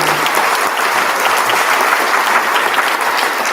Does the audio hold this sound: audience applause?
yes